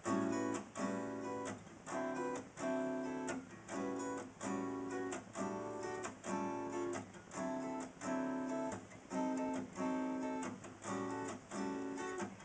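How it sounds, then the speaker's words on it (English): A guitar plays a steady jazz blues, chord stabs and bass notes rolling in a swinging rhythm. It sounds close and clear, with no voices. "So that's a jazz blues."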